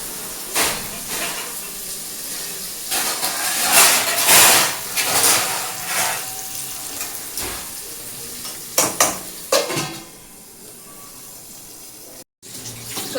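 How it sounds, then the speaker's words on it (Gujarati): Chopped onions cooking in a pan for medu vada sambar, giving a soft, steady sizzle with occasional stirring and clinks of a utensil, fairly close and continuous, with no talking. "આ કાંદા પાકવા દેવાના."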